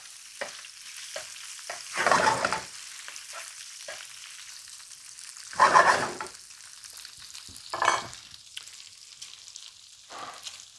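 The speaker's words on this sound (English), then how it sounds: "I'm going to throw the tofu in there too. Let that cook in the pork fat for a minute." Tofu frying in pork fat in a pan for pad Thai, a soft sizzle broken by several loud bursts of stirring and scraping and some lighter clinks, heard close with no speech.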